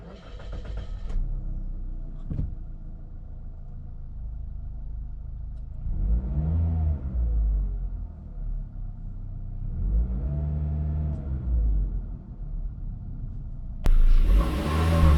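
A 2019 Suzuki Ertiga Sport with automatic transmission and 1500 cc four-cylinder engine is driven, heard from inside as a steady engine hum and road rumble that swells with acceleration twice, ending in a louder noisy burst.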